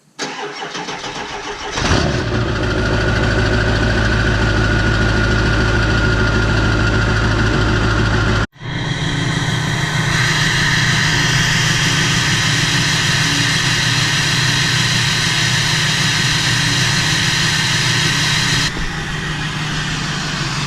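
A 7.3 diesel truck engine runs at a high idle, a loud and steady rumble close by that cuts out briefly and then carries on without a break.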